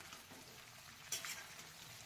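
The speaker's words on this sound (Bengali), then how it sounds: "বেগুনটা এবার ভেজে নেব।" Eggplant frying in a pan gives off a faint, steady sizzle, broken by one brief louder crackle or stir partway through, with no talking.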